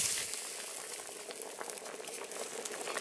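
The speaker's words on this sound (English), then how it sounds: "It's boiling!" A pot of rice and sausage boils on a SilverFire rocket stove outdoors, giving a steady, fairly quiet bubbling and hiss that runs without pause and with no talking.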